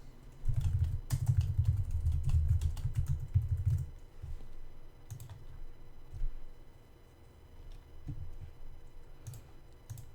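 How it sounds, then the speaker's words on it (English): Rapid computer mouse clicks come in dense, irregular bursts, close and fairly soft, with quieter gaps between clusters and no talking. "Man, I'm having a tough time clicking on things today."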